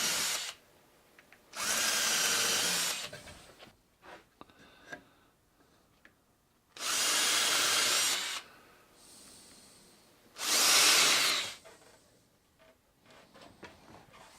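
A power drill whirs in three separate bursts of a second or two each, drilling pilot holes for screws in wood furniture, loud and close, with quiet handling noises between.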